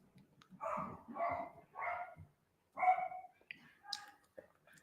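Several dogs bark from somewhere nearby, a run of four muffled woofs followed by a short gap and a few more barks and yips, moderately faint and slightly distant.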